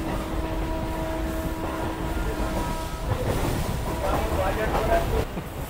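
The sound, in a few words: Howrah–Goghat local train departing Arambagh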